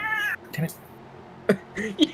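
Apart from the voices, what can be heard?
cat meowing, sounding like a baby crying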